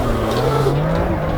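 The new BMW M2 drifts in the racing game Assetto Corsa EVO, its engine droning loudly and steadily with tire noise from the slide, heard alone without speech.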